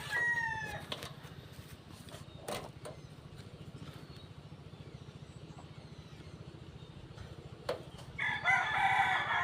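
Roosters crow repeatedly with chickens clucking around them, mid-distance and fairly clear, over a steady low outdoor rumble; a louder, harsh burst of crowing or squawking closes the scene.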